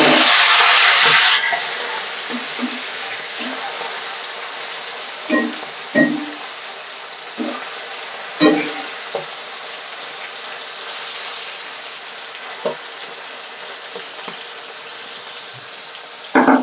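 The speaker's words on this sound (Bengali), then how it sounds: "মাছটা আর এক পাশ আমি ভালো করে ভেজে নিই।" Fish fries on its other side in a wok. A loud sizzle at the start eases into a steady frying hiss, marked by intermittent scrapes and taps from a utensil.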